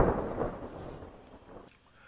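A thunder sound effect played on a live show rumbles loudly and then gradually fades away, a single deep roll that is heard alone.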